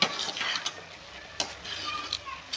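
Stirring a radish greens and fried chana dal stir-fry in a pan: soft scraping and clinking strokes over a faint sizzle, a few sharper taps, close and fairly quiet.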